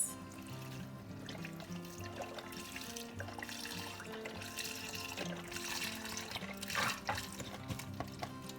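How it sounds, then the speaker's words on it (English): Broth, 32 ounces of it, poured into a pot of keto cabbage soup with cauliflower, giving a steady close splashing and gurgling pour that runs for several seconds, louder near the end, with no talking. "Now I'm going to add the broth. So those are 32 ounces."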